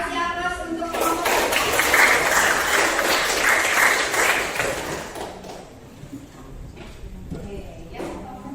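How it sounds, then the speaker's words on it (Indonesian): A classroom of students applauds a group as it comes to the front, a loud burst of clapping that swells early, peaks, then thins out into scattered claps, with faint voices underneath. "Kasih aplaus untuk kelompok."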